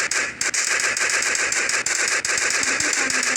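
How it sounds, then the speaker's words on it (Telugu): Rapid sustained automatic gunfire from a KGF gun in a shooting video game, a dense loud rattling burst of shots running almost continuously with only brief gaps. "ఓకే, కేజీఎఫ్ గన్ అయితే షూట్ అయితే చేసేపోతున్నాం అనమాట."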